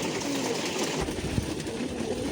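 Pigeons busy eating, with soft low cooing calls repeating over a steady background rumble of the loft, fairly faint and continuous.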